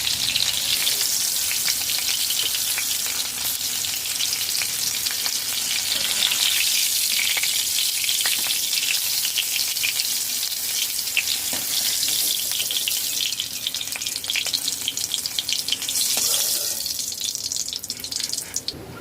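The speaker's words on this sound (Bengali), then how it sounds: "একটু মিডিয়াম ফ্লেমে পাঁচ মিনিট ভেজে নিয়েছি" Loud, steady frying of cauliflower, potato and soybean chunks in hot oil over medium flame, a dense continuous sizzle that holds for the whole stretch with no voices.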